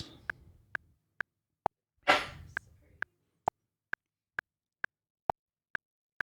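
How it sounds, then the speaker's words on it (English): A single sneeze bursts out about two seconds in during a livestream, loud and breathy, while a steady metronome-like tick repeats evenly through the whole stretch. "I'll keep the sneeze in there."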